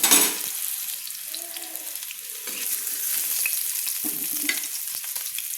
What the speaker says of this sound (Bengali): আমি একটা চাপা দিয়ে 1 মিনিট মতো আলুগুলো ভেজে নিচ্ছি